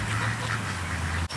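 A flock of geese calls continuously near Hungry Horse Dam in Montana, with dense overlapping honks and quacks forming a steady, busy chorus that cuts off abruptly near the end.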